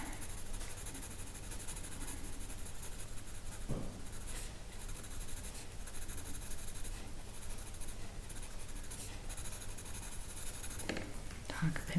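A dark pencil scratches and rubs over paper as an animal is sketched, a soft, quiet, continuous scraping with a few sharper strokes.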